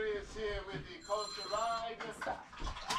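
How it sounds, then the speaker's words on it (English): A mobile phone rings with bright, steady electronic ringtone tones that rise over the middle of the clip, mixed in with ongoing close-up talk. "I think my phone's going off."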